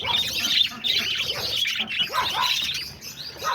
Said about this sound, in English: But yeah, there's the budgies.